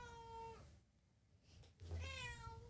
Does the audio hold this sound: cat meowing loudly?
yes